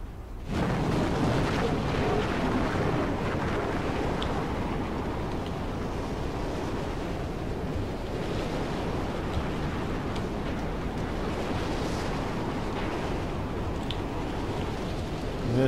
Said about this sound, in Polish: Zbliża się burza pioskowa.